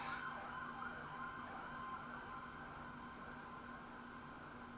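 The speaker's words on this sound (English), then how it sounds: "sorry about the ambulance, or it's probably fire engine sound." A fire engine or ambulance siren wails faintly in the distance outside, a steady sustained tone across the whole stretch with quiet background noise.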